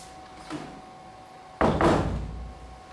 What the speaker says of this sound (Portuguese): Vou fechar a porta, a gente tem menos barulho lá de fora.